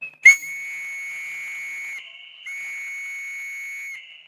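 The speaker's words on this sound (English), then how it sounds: "Please blow your whistle." Whistles blown by the audience at an inaugural lecture, two long shrill blasts with a brief gap between them, loud and near, preceded by a short sharp attack.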